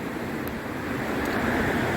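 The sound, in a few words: rushing water of the Nantahala River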